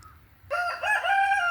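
A rooster crows loudly and close by, one sustained cock-a-doodle-doo starting after a brief quiet moment.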